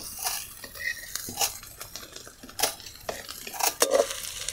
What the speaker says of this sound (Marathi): कांदा पण इकडे तळायला टाकलेला आहे